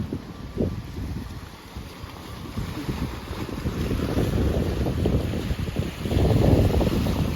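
Steady wind roars and buffets the microphone by the sea at rocky Pattaya, Thailand, with low rumbling gusts building louder toward the end; no voices.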